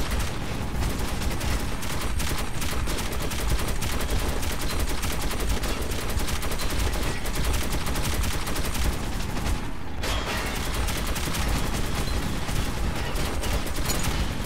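Relentless rapid gunfire from a depot defense firefight in the Metro 2033 Redux video game, dense machine-gun bursts running continuously and loudly with barely a pause.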